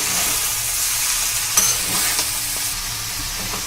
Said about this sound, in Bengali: চিনিটা কিন্তু এবার নেড়ে ভালো করে মিশিয়ে নিতে হবে এই ভাজার সঙ্গে।